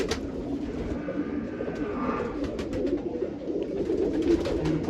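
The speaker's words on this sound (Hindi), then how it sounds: "बाजरे कबूतर है, राजस्थान की बाजरू में से है, बहुत ज़बरदस्त कबूतर है।" Bajra pigeons from Rajasthan coo softly and steadily at close range over a constant background hum, with no one talking.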